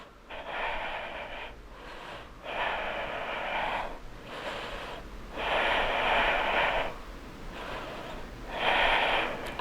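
Heavy rhythmic breathing during a cardio yoga flow, long forceful exhales and inhales through the nose, about four or five breaths close to the mic with short pauses between them.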